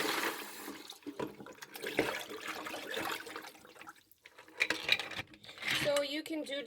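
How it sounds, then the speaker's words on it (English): Clams are rinsed in a bowl as the water is changed, with splashing, pouring and shells clattering in irregular bursts, close and moderately loud, broken by brief pauses. "we're going to change this water and we are going to rinse them"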